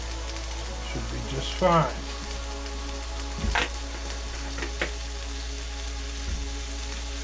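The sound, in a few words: kabobs sizzling as they're put on the grill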